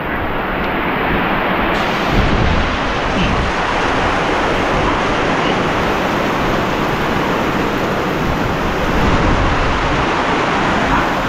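Heavy typhoon rain pours down steadily on a pig farm, a dense, constant roar of water that stays loud and unbroken throughout.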